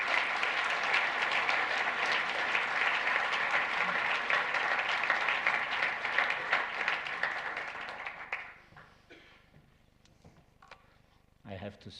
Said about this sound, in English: I would say we make an applause to these supporters